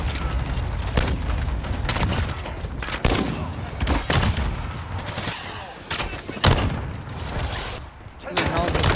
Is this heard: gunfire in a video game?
yes